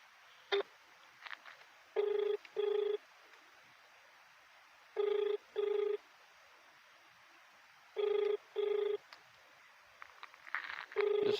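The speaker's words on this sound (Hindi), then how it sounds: "दूसरी बार फिर फ़ोन लगाया हमने ये।" An outgoing phone call rings out to a PWD official, the ringback tone coming in paired bursts separated by pauses, repeating three times, clear and close with no one speaking.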